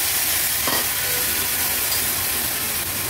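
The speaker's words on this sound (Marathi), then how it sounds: "ते देखील आपण व्यवस्थित तेलावर परतून घेऊया" Coconut paste and field beans sautéing in oil in a pan: a close, steady, loud sizzle and hiss that continues throughout without pause.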